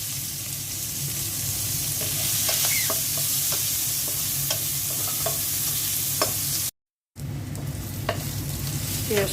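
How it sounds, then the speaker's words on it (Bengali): Onions sizzle and fry in hot oil left in a pan after frying fish, a steady close crackle with occasional stirring clicks, briefly cut out near the end before resuming. "এখন মাছ ভাজা তেলের মধ্যে পেঁয়াজ দিয়ে দিচ্ছি।"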